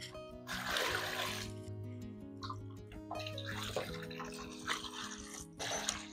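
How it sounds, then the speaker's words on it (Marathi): Potatoes are rubbed by hand in a bowl of water to loosen the soil, producing close, intermittent sloshing and splashing with small drips between strokes. "हलक्या हाताने बटाट्याची अशी माती सुद्धा काढून घ्यायची."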